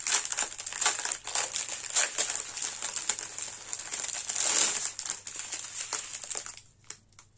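Plastic packaging of a diamond painting kit is torn and opened, making close, continuous crinkling and crackling that ends in a few sharp rustles. No one speaks.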